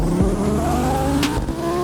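A race car in a video game with a chase cam mod sends out a loud engine drone with gear-change pitch sweeps and a short burst of tire noise, steady and close with no voices.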